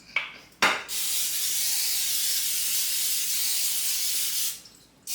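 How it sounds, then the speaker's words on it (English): Cooking spray hisses steadily onto a baking pan for dessert pastries, preceded by two short test bursts; one long continuous close spray lasting about four seconds, then a brief final puff. "go ahead and spray your baking pan"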